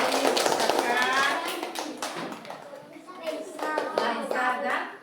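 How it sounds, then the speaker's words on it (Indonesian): Children clap together in a classroom, a dense, close burst of rapid hand claps that continues for several seconds while a teacher's and children's voices talk over it. "Beri tepuk tangan untuk Laisa dan Safira."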